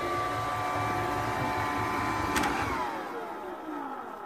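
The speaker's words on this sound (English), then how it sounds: "Okay, I'll stop hoovering and return the Hoover to its charging point." A robot vacuum cleaner controlled by Amazon Alexa runs in a home with a steady, loud whirring drone that drops lower and quieter near the end as it winds down.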